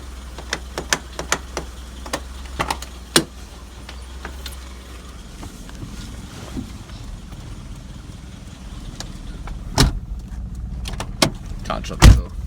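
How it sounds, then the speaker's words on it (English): A car door is pushed and slammed but won't latch, giving a few sharp clunks and light clicks near the end over a quiet outdoor background with a low idle hum at the start. "Can't shut the door."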